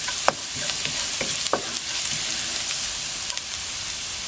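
Chicken and pork adobo ingredients fry in a pan toward light brown, giving a steady hiss and sizzle broken by scattered scraping stir strokes, close and moderately loud, with no talking.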